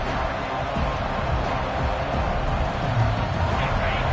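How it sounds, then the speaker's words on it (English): A steady roar of a large stadium crowd at an American football game fills the space, a dense continuous wash of cheering and murmur with no pauses. "This crowd bringing the energy and noise early."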